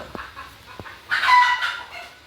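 Chickens at a home garden, a short burst of clucking and fowl calls close by following a few soft knocks.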